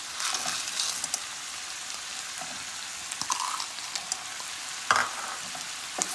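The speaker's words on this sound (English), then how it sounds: "We're gonna mix everything in." Frozen green peas being stirred into Guyanese chowmein in a pan on a medium-heat stove, giving a steady close sizzle with scattered scraping and clicks of the utensil, one louder scrape near the end.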